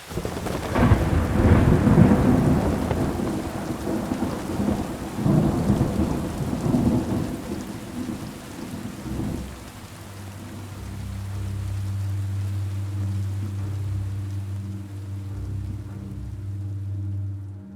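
Loud rain pours down with rolling thunder for several seconds, then the storm fades beneath a low, sustained musical drone.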